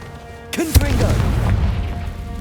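A Confringo spell from Hogwarts Legacy goes off in a single loud, close boom with a sharp onset, followed by a rumbling, crackling tail that lingers for about two seconds.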